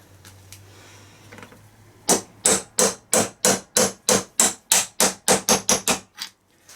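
A hammer taps a bearing onto a DENSO alternator housing, landing about a dozen sharp, evenly spaced metallic blows that speed up slightly toward the end, loud and close with no talk.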